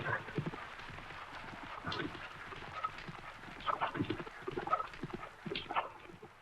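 Four racehorses gallop together in a race, their hooves beating in a quick, uneven drumming rhythm that carries steadily at middle distance throughout.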